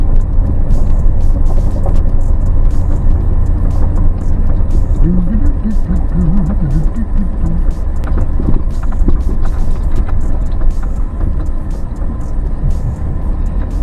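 Pickup truck engine pulling uphill in two-wheel drive, a loud steady drone with wind buffeting, and someone talking over it throughout.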